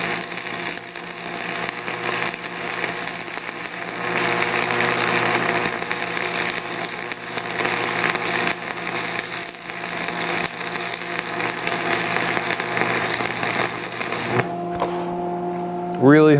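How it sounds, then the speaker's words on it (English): Welding on a goat house build crackles and sputters continuously at close range, a dense buzzing hiss that holds steady for many seconds before cutting off abruptly, with brief speech afterward. "Really hoping all this welding isn't hurting my GoPro."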